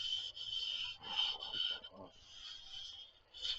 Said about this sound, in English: Go ahead and sand this out.